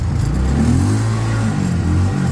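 Engine of an X&Y XY150 UTV pulling hard on a test ride with two people aboard, a loud steady close-up drone rising slightly in pitch as it accelerates, with no voices.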